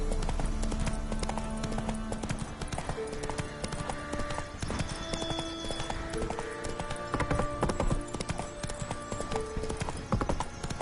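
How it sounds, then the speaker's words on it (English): Horse hooves gallop in a steady, loud clip-clop rhythm through Witcher 3, joined by a brief whinny and game music, with nothing else in the way. "Whoa there, Roach."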